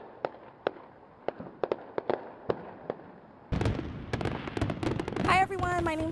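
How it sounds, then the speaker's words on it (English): Sharp fireworks pops crackle at uneven intervals in the distance, then a louder noisy stretch follows with voices and more bangs mixed in. "the sounds that we were hearing might be fireworks"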